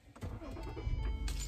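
A car started with a push-button ignition on a frosty, cold morning: the engine cranks and catches into a steady, close running rumble, loud and continuous for the rest of the moment.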